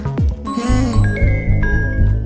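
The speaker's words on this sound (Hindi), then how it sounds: "देखो फोन तो आ गया उसका।" A phone rings nearby, its tinkling electronic ringtone repeating in a steady melodic pattern.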